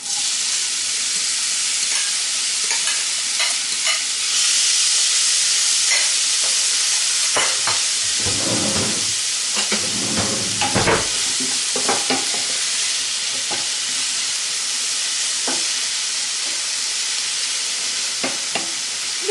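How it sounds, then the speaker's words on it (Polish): Onion and garlic frying in a large spoonful of pork fat, a steady bright sizzle throughout with a louder, rougher burst of stirring and crackling in the middle, close and without talk. "podsmażam cebulę z czosnkiem"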